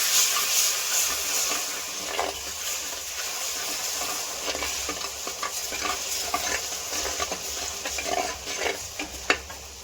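Ginger-garlic paste fries in a pan for an egg masala curry, a steady close sizzle and hiss with stirring scrapes and occasional spatters.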